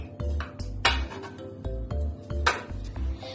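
Metal cake molds clink and clatter on a kitchen counter while they are greased and handled. Several sharp metallic pings and knocks come close and at moderate volume, with no talk over them.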